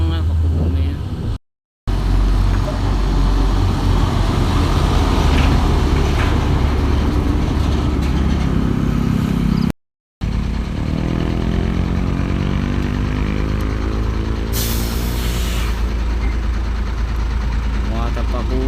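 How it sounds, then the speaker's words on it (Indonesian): A Hino 500 truck carrying pile-driving posts roars past on a road, a loud, deep, continuous engine rumble close by, briefly cut twice, with the pitch shifting toward the end. "Raungan Hino 500."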